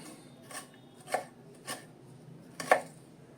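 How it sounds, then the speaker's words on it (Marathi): An onion being chopped with a knife for bhaji: four separate crisp cuts against a board, spaced roughly half a second apart, close and quiet with no talking. "हे बघा हा या पद्धतीने आपण हा कांदा चिरणार आहोत"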